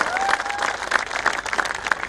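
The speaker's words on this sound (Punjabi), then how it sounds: "ਜ਼ੋਰਦਾਰ ਤਾੜੀਆਂ ਮਾਰਦੇ ਬਹੁਤ ਸਾਰੇ" At Bhagwant Mann's political rally in Mullanpur Garibdass, the audience bursts into loud, close applause, a thick crackle of many hands with sharp peaks and a thin whistle rising over the crowd.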